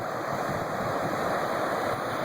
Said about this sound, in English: now creating rapids, where it's erupted its banks here on the Naperville Bolingbrook border on Weber Road